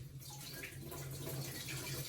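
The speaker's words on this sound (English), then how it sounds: "So let me wet my hands." Running water from a tap as hands are wetted before working sticky, glossy bread dough, a steady close splashing hiss with no talk.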